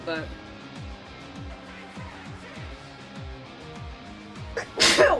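A sneeze bursts out near the end, loud and close, following a stretch of speech over game music during a cosplay variety stream.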